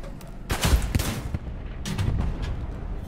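Heavy gunfire in a tank combat video game, with two loud booming blasts, each followed by a burst of rattling shots, close and forceful, and no talk over them.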